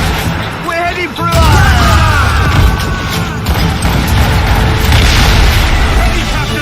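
Ship cannons firing in a naval battle in Assassin's Creed Rogue, a heavy boom followed by sustained rumbling blasts and crashes, loud and close, with shouting voices and music.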